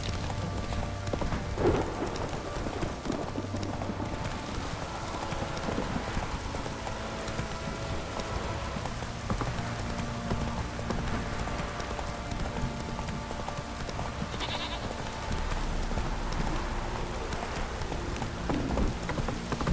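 Steady rain in The Witcher 3 video game, a continuous wash of downpour with thunder rumbles, while horse hooves clip-clop throughout and a faint voice occasionally sounds.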